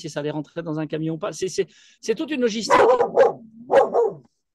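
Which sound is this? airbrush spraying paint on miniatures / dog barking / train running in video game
dog barking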